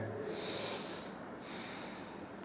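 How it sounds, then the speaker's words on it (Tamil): Slow, steady breathing during a yoga breathing exercise, a soft close airy breath with a sniffing quality that rises and falls over a couple of seconds, heard alone and quietly. "கண்களை மூடி மெதுவாக மூச்சை உள்ளழுங்க மெதுவாக மூச்சை விளையாடுங்க"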